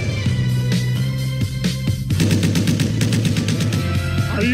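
Gunfire from AK-47s and grenades bursts through a commercial, with rapid repeated machine-gun rattles that turn into a fast, dense volley near the end over a loud musical backing.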